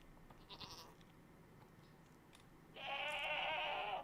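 A Minecraft screaming goat lets out a loud, harsh bleat that holds steady for over a second, preceded by a fainter, shorter bleat earlier on over low game ambience.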